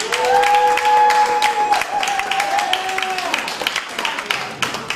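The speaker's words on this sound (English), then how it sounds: "Keep clapping for Sal Marafioti." A comedy club crowd in Charlotte applauds at the end of a stand-up set, with loud, sustained clapping and some cheering, and a sustained whistle-like tone over the clapping.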